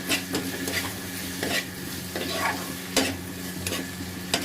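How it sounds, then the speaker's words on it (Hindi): A spoon stirs paneer gravy with ghee and garam masala in a pan, giving repeated scraping strokes and clinks against the metal over a low, steady sizzle, close and fairly loud. "अब इसे मैं चलाऊंगी"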